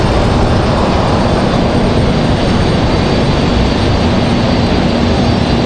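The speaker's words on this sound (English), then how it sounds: "FedEx touching down" A FedEx jet airliner touches down at Raleigh-Durham airport, its engines producing a loud, continuous broadband roar that holds steady throughout.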